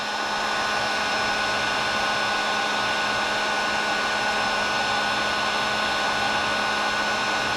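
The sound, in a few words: heat gun heating lead jigheads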